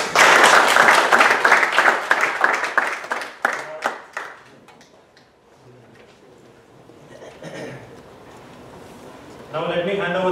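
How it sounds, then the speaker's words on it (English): Audience at a Toastmasters area speech evaluation contest bursts into loud sustained clapping that gradually fades to scattered claps, with a voice speaking at the end. "Audience, please give them all a big round of applause."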